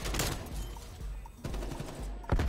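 Gunfire from a weapon in Call of Duty: Cold War, heard as dense bursts of shots with loud volleys near the start, middle and end of a short stretch.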